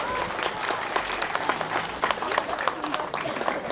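An audience at a Balinese performance claps together in a continuous, moderately loud burst, with some voices and vocal sounds mixed in and brief louder accents through the crowd noise.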